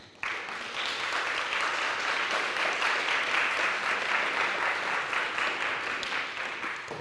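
An audience at a literary festival bursts into sustained applause for author Colum McCann, a dense, even clapping that starts abruptly and holds steady for several seconds before tapering slightly.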